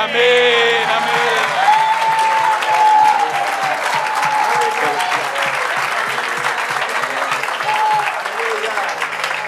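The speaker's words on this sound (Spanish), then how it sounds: "Dale aplauso al Señor," A church congregation claps loudly and steadily during a worship service, a dense sustained applause with a rhythmic beat underneath and voices calling out over it.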